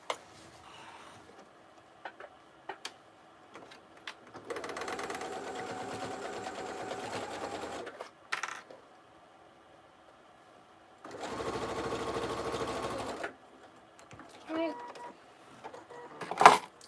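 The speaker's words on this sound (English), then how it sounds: "and I'm going to go sew that." Sewing machine stitching a fanny pack, running in two steady bursts of rapid whirring, each several seconds long, with quiet pauses and small handling clicks between them.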